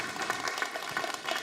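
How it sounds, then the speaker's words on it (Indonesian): Applause for a child contestant at a young preachers' competition on a TV stage: dense, steady clapping from an audience that fills the whole short moment. "tepuk tangan buat jihad fisabilillah ya"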